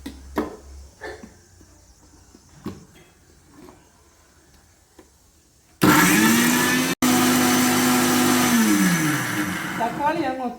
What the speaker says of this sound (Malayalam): നമുക്ക് ഈ തക്കാളിയും കൂടെ ഇതിനകത്തോട്ട് ഇട്ടൊന്ന് അരച്ചെടുക്കാം.